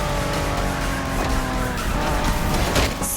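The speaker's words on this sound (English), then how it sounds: "Are you familiar with the Honda you're driving?" A Honda NSX in a racing game roars close up under a loud, steady engine drone while its tires squeal through a long skid, with the pitch shifting slightly as the slide goes on.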